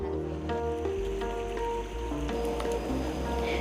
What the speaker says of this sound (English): Although I can hear the sound of these waterfalls from here